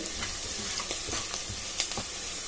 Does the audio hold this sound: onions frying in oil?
yes